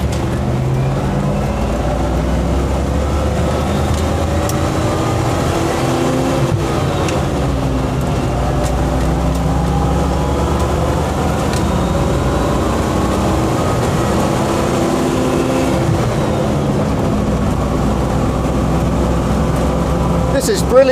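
A Land Rover FC101 V8 military truck drives along, its engine droning and revving loudly and continuously up close, with cabin rumble throughout.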